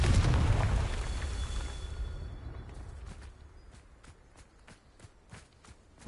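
A Confringo fire spell in Hogwarts Legacy bursts with a loud, deep explosive boom that rumbles and fades over about two seconds. Quieter, evenly spaced footsteps follow, ending in a sharp hit.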